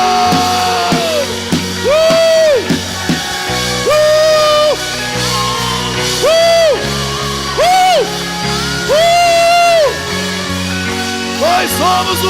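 A church conference crowd whoops and yells in repeated rising cheers, several loud swelling shouts in a big reverberant hall, with music underneath.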